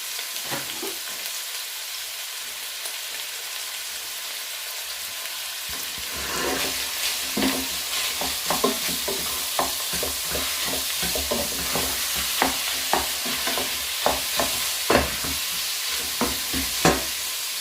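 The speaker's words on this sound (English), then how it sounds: "Then I'm gonna add my ground beef in." Ground beef fries in a pan for a spaghetti bolognese, with a steady sizzle that rises after a quiet start and is broken by repeated scraping stirs and clinks, close up with no talking.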